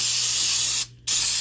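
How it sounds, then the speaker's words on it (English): An aerosol can spraying penetrating fluid onto old spark plugs in an engine, a close steady hiss that briefly cuts off near the end before resuming. "we're going to spray this, let it soak into it good down inside"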